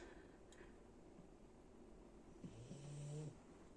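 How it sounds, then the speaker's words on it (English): A man asleep on the floor snores softly and low for a moment against a quiet, hissing room background, with a short breathy snort near the start. "He has just laid down on the floor and gone to sleep and started snoring."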